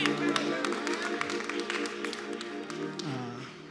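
A church audience claps along at a Palm Sunday concert in Citadel Cathedral, with many hands tapping in a steady rhythm over music and singing.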